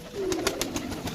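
Pigeons cooing at a rooftop loft where birds are traded, a low repeated coo running through the clip with a few sharp wingbeat-like flutters over steady outdoor background.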